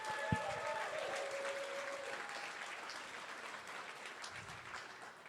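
Audience applause at a charity auction gala, a steady broad patter of clapping from a large room that holds throughout, with a brief voice and tones near the start.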